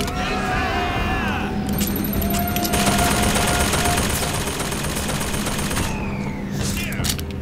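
Sustained automatic gunfire from BioShock Infinite, a dense continuous fusillade of rapid shots with booming impacts, loud and unbroken throughout.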